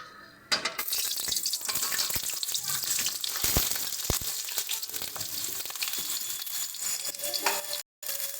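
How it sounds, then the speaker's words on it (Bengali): Brinjal slices fry in hot oil with a dense, continuous sizzle and crackle, close and loud, broken by a few sharp pops and clinks and one brief gap near the end. "তেল আমাদের গরম হয়ে গেছে, এবারে আমরা প্রথমে বেগুনটা ভেজে নেব"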